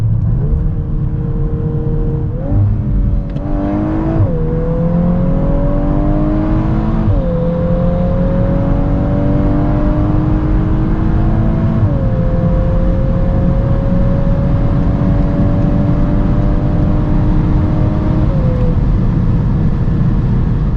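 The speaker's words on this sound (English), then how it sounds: "let's now see how fast the Golf R goes, 100 to 200" A 320 hp Volkswagen Golf 8 R engine revving hard as it accelerates from 100 to 200 km/h, pitch climbing steadily through several gear shifts, loud and continuous from inside the car.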